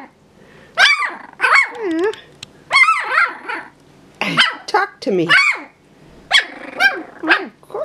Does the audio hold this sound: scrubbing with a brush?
no